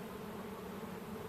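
A swarm of honeybees, found while making a hive split, drones in a steady, soft, low hum that holds evenly throughout with no pauses.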